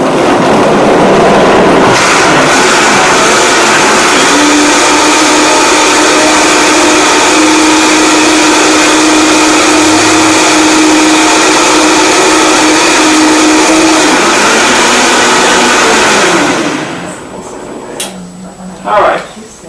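A Vitamix blender runs on low speed, a loud continuous motor whir with a steady hum that holds for about sixteen seconds before cutting off, followed by quieter handling noises.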